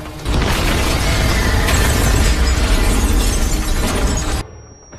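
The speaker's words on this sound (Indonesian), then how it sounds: "Mendengar ledakan dari kejauhan" A loud, sustained blast roars with a thick rumble and crackling debris for about four seconds, then cuts off abruptly to near silence.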